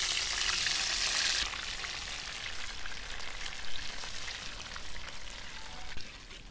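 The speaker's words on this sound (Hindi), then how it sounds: "ये देखिए कितना बढ़िया सा डीप फ्राई हो रहा" Cauliflower pieces deep frying in hot oil, a dense rain-like crackle that is loudest at first, then settles into a steadier, softer bubbling sizzle.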